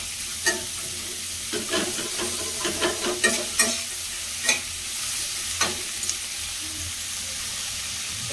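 Butter chicken masala of onion, tomato, dried chilli and bay leaf fried in butter and stirred in a pan, steady sizzle broken by repeated clinking, scraping spoon strokes, close and fairly loud.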